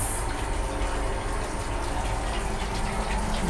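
A toilet flush aboard an Indian Railways train, heard as a steady loud gush of rushing water that runs for a few seconds with no break.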